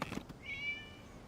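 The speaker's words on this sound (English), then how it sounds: "It was just a cat." A cat in the video game Genshin Impact lets out a single short, soft meow, faint and on its own, with no talking.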